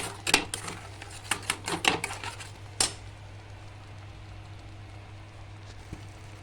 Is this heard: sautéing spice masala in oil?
yes